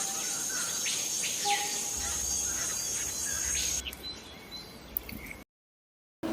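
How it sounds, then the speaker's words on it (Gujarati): A hummingbird gives thin, high chirps and squeaks over a constant insect-like buzz. The calls come in short bursts before the sound cuts briefly to silence near the end. "hummingbird,"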